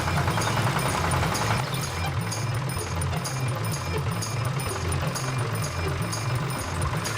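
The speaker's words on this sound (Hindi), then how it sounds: "ट्रैक्टर स्टार्ट हो गया। अरे वाह, ये तो आवाज कर रहा है।" Tractor engine running steadily after starting, a continuous loud mechanical drone with a regular pulsing rhythm and no talk over it.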